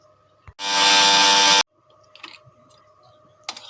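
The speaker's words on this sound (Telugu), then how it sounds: "మరలా ఒకసారి మిక్సీ పడదామండి" A mixer grinder whirs loudly for about a second, blending garlic with red chilli powder, then stops. Quiet clinks and faint handling noises of the jar follow.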